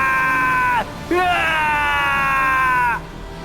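A monster's loud, drawn-out scream in a Hindi horror story: one sharp wail breaks off, then a second long, high, quavering shriek holds steady before cutting away, close and dominant.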